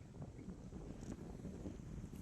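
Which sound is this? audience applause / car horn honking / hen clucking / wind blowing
wind blowing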